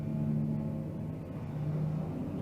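Dodge Ram Hemi pickup truck with aftermarket rims driving past, heard as a steady, loud, low engine rumble and road drone throughout, close by, with no speech.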